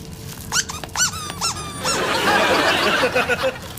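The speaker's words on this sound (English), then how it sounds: "Dougal, this is a toy for dogs." A squeaky rubber dog toy squeezed several times gives a quick run of sharp, high-pitched squeaks up close, followed by a burst of noisy background commotion.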